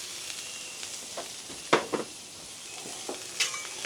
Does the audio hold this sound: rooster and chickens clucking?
no